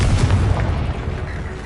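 A Confringo fire spell goes off in Hogwarts Legacy on PlayStation 5, a loud booming blast that rumbles low and then fades over a second or so, with no talk.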